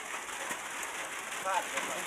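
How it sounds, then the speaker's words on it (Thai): Steady rain patters in an even hiss on a small rice-field hut, with a brief bird chirp rising above it near the end. "ฝนตกเล่นพี่น้องเอ้"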